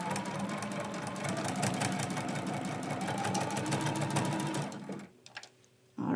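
A sewing machine runs a continuous straight stitch through quilt sashing pieces, a steady close mechanical whir that stops near the end, leaving quiet clicks before a brief restart.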